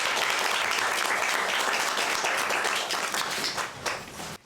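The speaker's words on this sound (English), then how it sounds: "can we please give a big round of applause to Rakin Niass?" An audience at a book launch applauds, a full, loud burst of clapping from many people that holds steady, then thins and fades near the end.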